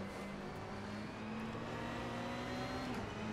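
Ferrari 488 GT3 race car engine in a racing game at Mid-Ohio, a steady loud drone with a sustained engine tone that shifts pitch slightly, running continuously without voices.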